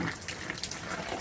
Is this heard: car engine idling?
no